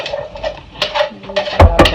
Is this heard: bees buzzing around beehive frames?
no